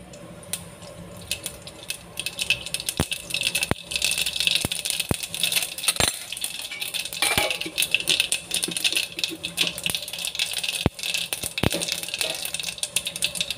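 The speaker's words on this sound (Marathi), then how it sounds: "जिरं आपलं तडतडलं आहे." Mustard and cumin seeds splutter in hot oil in a home kitchen: a steady, loud crackle with sharp pops scattered through it, with no voices.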